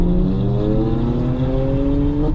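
A turbocharged 2-liter four-cylinder Range Rover Evoque accelerates, its engine drone rising steadily in pitch through the gears, loud and close from inside the cabin, with no talk over it.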